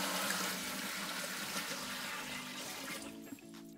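Water is poured into the boiler of a Luxstahl 8M moonshine still, a loud, steady gushing fill that thins out toward the end.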